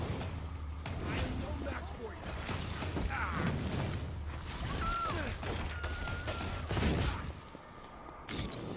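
Gunfire crackles through a busy Infamous Second Son game scene, with bursts of sharp shots and mechanical clatter mixed into steady background noise and voices.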